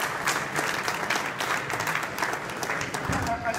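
Applause from the audience at a 2018 CERIAS security symposium, honoring the symposium directors: dense, steady clapping from a large crowd that fills the room evenly throughout, with faint voices mixed in.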